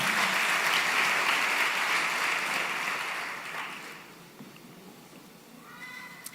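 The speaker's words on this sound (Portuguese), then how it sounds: "aplauda ele" Church congregation applauding, a broad wash of clapping that holds for about four seconds and then dies away into quieter room sound, with a faint voice near the end.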